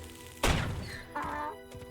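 A firecracker goes off in a fantasy adventure video game, one sharp loud bang followed by a crackling, rumbling tail and a softer secondary burst.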